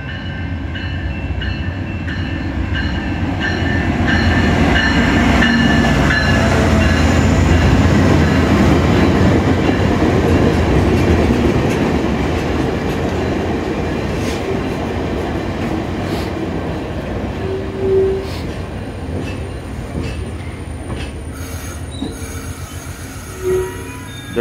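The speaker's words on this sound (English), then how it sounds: "There are 6 cars on this train." A six-car VIA Rail passenger train, locomotive 907 leading, rolls loudly past Chatham station in winter, a steady heavy rumble of wheels on rail with squealing flange tones, easing slightly toward the end with a couple of sharp clanks.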